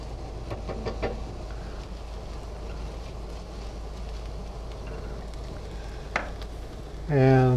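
Mushrooms beginning to cook in a heating pan give a steady, soft sizzling hiss throughout, with a brief clink of utensils near the end.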